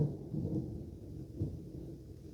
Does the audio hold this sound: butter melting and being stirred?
no